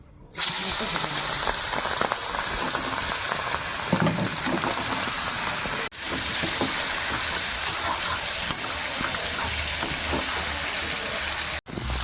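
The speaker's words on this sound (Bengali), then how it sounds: "চিংড়ি মাছগুলো ভাজা হয়ে গেছে" Shrimp fry in oil in a pan, giving a loud, steady hiss that runs close and unbroken, cut by two sudden brief dropouts, with no talking.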